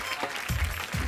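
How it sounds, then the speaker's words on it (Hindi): Enthusiastic audience applause for Farah Khan, Sonu Nigam and Anu Malik on a comedy show set, a brief wash of clapping with low thumps underneath, heard for about a second. "चलो एक बार फराह खान, सोनू निगम और अनु मलिक साहब के लिए जोरदार तालियां।"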